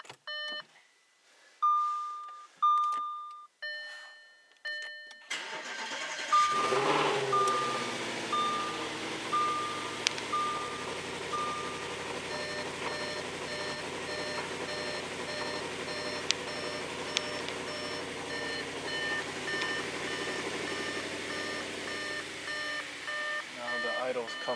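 A 2014 Audi RS5 with a 4.2 V8 fires after a few electronic beeps, then settles into a steady, loud idle that fills the rest of the clip with a continuous close engine drone.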